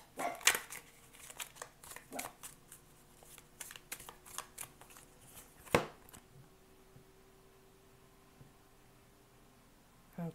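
Oracle cards are shuffled by hand in a string of close, irregular riffles and slaps, with one sharper knock partway through and a quieter tail.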